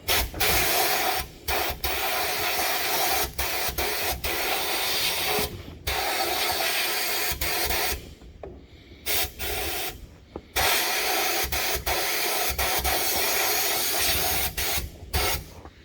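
Loud continuous blasting hiss as copper bars are sandblasted with compressor-driven abrasive to strip oxidation, running in long bursts broken by short pauses, close and with no talk.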